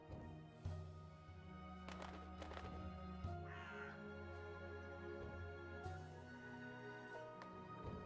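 Talking bird cawing in the fantasy video game Dreamfall Chapters, a few harsh caws rising over a low ambient music bed, fairly close and moderately loud with no speech.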